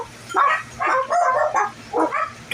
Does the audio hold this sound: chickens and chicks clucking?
no